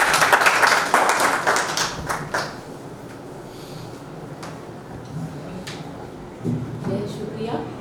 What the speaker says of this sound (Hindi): जोरदार तालियों से उनका इस्तकबाल